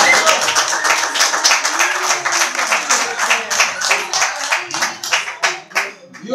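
Guests at a 40th birthday celebration applaud, a steady stretch of dense hand clapping that fills the room, loud and close, thinning slightly toward the end.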